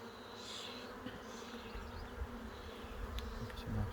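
Honeybees buzz steadily around an open hive during an inspection, a dense, close, continuous drone that swells slightly toward the end, with no talking.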